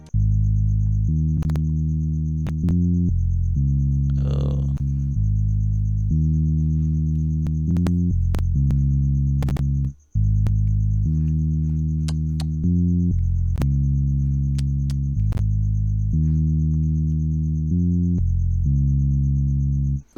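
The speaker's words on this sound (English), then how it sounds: "you come to bass guitar and it's eBass08, right? I love using this bass." A deep, groovy synth bass line from an eBass08 electric bass instrument in an Afrobeat track plays steady repeating notes with short gaps, loud and upfront, alongside a faint high sustained tone and occasional clicks.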